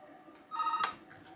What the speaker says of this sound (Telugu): ఫోన్ కూడా వచ్చేసింది.